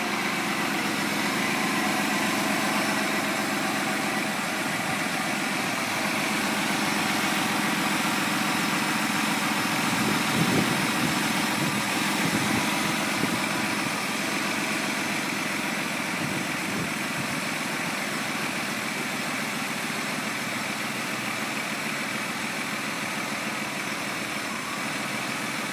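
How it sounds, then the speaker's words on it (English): A 2004 Mazda Tribute engine runs at a steady idle for the full stretch, a continuous even drone with a slight bump in revs partway through and no talking. "And we'll have Jeremy run this motor for you"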